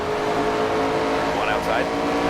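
NASCAR 25 race car engine in a Kansas race, a steady loud roar held throughout as the car accelerates, with a spotter's voice talking over it.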